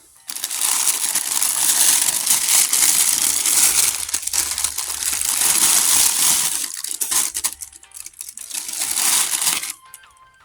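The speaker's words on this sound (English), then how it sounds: "This is how the paintball mask was packaged in 2 plastic bags." Two plastic packaging bags around a paintball mask crinkle and rustle loudly and close up in long continuous bursts, briefly dropping away near the middle before a final burst and then quiet.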